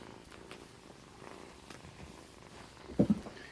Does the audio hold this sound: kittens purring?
yes